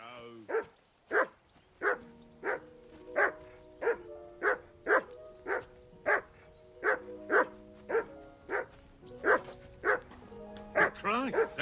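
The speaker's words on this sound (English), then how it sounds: "Call off that damn dog before he wolfs down the last of our meat." A dog barks over and over in the medieval video game Kingdom Come: Deliverance II, loud close woofs in a quick, even rhythm of more than a dozen barks.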